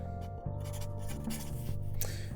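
Pen writing a list on paper, with steady scratchy strokes and brief pauses running close and clear through the whole moment, mixed with low background tones.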